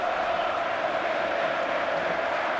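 Steady roar of a stadium crowd in the football video game FIFA 15, a dense continuous wash of massed voices with a faint chant rising through it, filling the whole stretch without a break.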